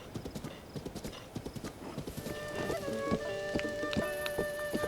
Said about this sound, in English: After bringing my horse to the nearest stable to register him